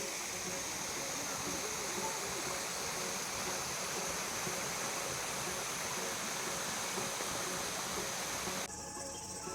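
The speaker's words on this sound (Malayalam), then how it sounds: "താഴെ ഒരു ചെറിയ പുഴയാണ്" Steady rushing water of a small river flowing over rocks at Mamalakandam near Kothamangalam, Kerala, constant and fairly loud throughout, with no voices.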